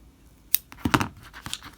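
Scissors snip away excess sheer fabric at an overlap seam in a few quick, close cuts, with light rustling of the thin cloth and no talk.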